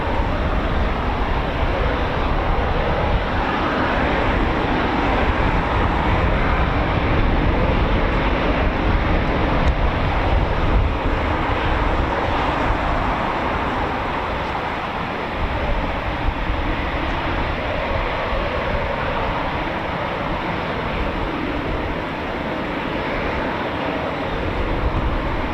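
A Eurofighter Typhoon FGR4 jet taxis out at RAF Coningsby, a steady, loud, broad roar that holds for the whole stretch with only slight dips in level.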